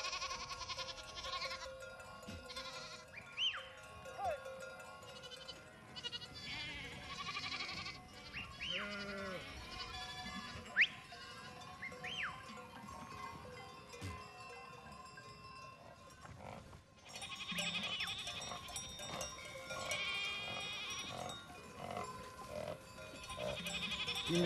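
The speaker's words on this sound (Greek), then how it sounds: "από τα κατσίκια που είναι πραγματικά έξω στη φύση και τρώνε τα καλύτερα" A herd of goats out on open mountain pasture bleats repeatedly, calls overlapping near and far, with cowbells clanking now and then and faint voices in the background.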